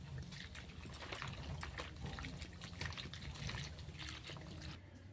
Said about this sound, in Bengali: আর একটু এই থালার মধ্যে জল দিয়ে আমি ধুয়ে নিচ্ছি।